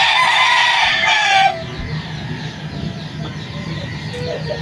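Five-month-old gamecock stags crow and cluck nearby, a loud overlapping crow at first, then scattered clucks and softer calls among a flock outdoors.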